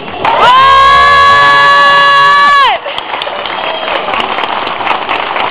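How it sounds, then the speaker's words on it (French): A crowd at a swearing-in ceremony for a new deputy marshal claps and cheers loudly. A sustained, bright, horn-like tone comes first and stops abruptly, and the applause carries on after it. "Mesdames, messieurs, les applaudissements pour le nouveau nominé."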